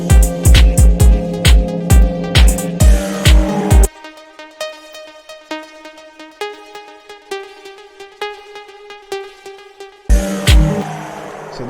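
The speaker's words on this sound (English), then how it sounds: "Just a regular pluck that I use, but it has a lot of delay on it and reverb" Dance beat in new wave style: a synth pluck drenched in heavy delay and reverb plays a repeating melody with echoing tails, bracketed by loud thumping full-mix sections at start and end.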